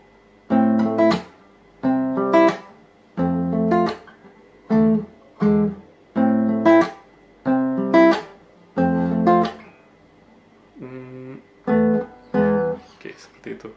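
An acoustic guitar plays the strumming pattern for a song, with about a dozen bright chord bursts in a steady, evenly spaced rhythm. Each strum rings briefly before short gaps, close and clear with no voice over it.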